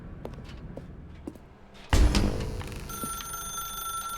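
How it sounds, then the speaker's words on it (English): A telephone rings in the video game The Stanley Parable, a sudden loud ring bursting in after a quiet stretch of faint footsteps and then sustaining with a bright, steady tone. "let's answer the phone this time"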